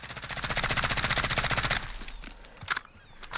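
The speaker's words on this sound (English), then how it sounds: "you can see just the crazy amount of recoil when we put it in full auto." MCX-MR rifle firing full auto in Call of Duty Modern Warfare, a loud rapid burst of evenly spaced shots lasting under two seconds, followed by a few faint clicks and a softer trailing noise, no talking.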